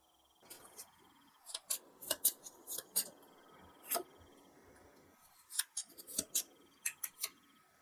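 An advice card is drawn from a tarot deck during a love reading, heard as soft, close paper snaps and flicks in short clusters against a quiet background.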